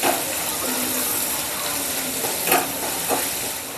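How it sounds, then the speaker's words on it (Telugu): Onions fry in a pan for a Telugu home-style rice dish, making a steady close sizzle with a few brief stirring scrapes. "ఇది బాగా ఫ్రై అవ్వాలండి. ఆనియన్ పచ్చిగా ఉండకూడదు."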